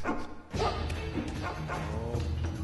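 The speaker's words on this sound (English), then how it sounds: "dog's on me. He's barking a lot." A dog in a video game barks several times amid thuds and impact noises from gameplay, close and moderately loud.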